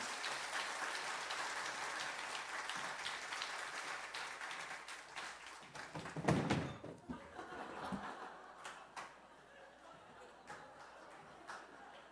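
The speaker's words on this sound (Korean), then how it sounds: "박수로 모시겠습니다" A church congregation applauds to welcome a pastor to the front, a faint, rain-like patter of clapping that swells briefly, then thins out into scattered claps and light laughter.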